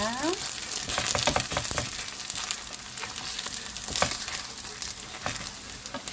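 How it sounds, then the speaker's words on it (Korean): Seaweed pancake batter with shrimp powder, potato starch and cabbage frying in a pan, a steady close sizzle with scattered pops and light scraping as the batter is spread thin. "이렇게 쭉 얇게 펼쳐주시면 됩니다"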